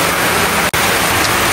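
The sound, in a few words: heavy rain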